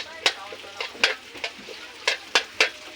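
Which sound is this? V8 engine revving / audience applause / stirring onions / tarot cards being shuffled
stirring onions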